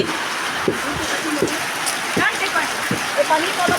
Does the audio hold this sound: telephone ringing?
no